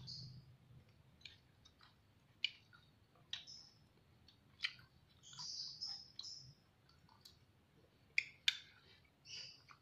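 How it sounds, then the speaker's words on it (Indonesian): Birds chirping outdoors, a scatter of short high tweets and calls at irregular intervals, mostly faint with a few sharper near chirps over a quiet low background murmur. "Burung-burung di udara, tolong jangan berisik"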